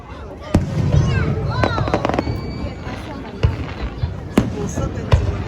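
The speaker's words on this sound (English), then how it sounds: "Here's some fireworks celebrations that I saw." Fireworks at a Canada Day celebration in Montreal pop and crack in scattered sharp bursts over a steady outdoor crowd murmur, with some louder bangs standing out among softer ones.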